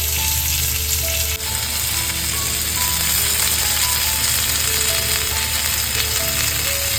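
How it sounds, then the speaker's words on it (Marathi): Two large pomfret fish frying in a pan on a griddle, a loud, continuous crackling sizzle throughout, with a faint melodic tune playing in the background. "बघा पॅन मध्ये फक्त 2च आपण पापलेट ठेवलेत."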